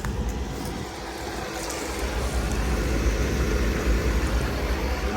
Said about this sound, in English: The motor still running